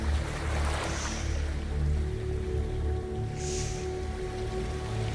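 Sea waves wash in a steady, continuous roar by the shore, with two faint high seagull cries far off over the surf.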